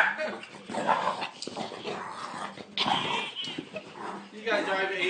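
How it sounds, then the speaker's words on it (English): A dog barks, whimpers and yips in excited bursts close by, mixed in with people talking over it. "Hey, stop barking."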